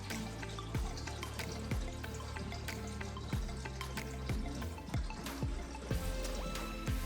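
Fish stock being poured carefully into a bowl, a quiet irregular series of drips, splashes and trickling liquid close by.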